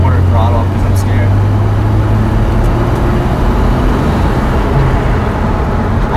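A Jeep TJ drives at quarter throttle with a steady, loud engine drone and road rumble that holds constant throughout, with no voices over it.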